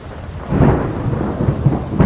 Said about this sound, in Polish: Kurwa jebana burza.